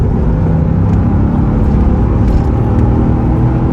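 A 1993 C4 Corvette engine pulls hard after a downshift, giving a loud, steady, deep rumble that stays close and continuous throughout.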